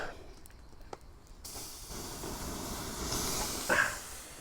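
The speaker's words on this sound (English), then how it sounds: "Campfire can get a dousing." Water poured over a campfire at a bushcraft camp, a steady broad hiss of steam and spray that begins after a short pause and swells louder toward the end, heard alone without voices.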